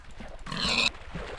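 A pig grunts briefly in the video game Minecraft, a single short nasal squeal over low background game noise.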